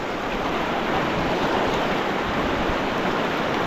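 Cold, clear stream water babbling and rushing over mossy rocks, a steady close-up wash of turbulent flow with no voices.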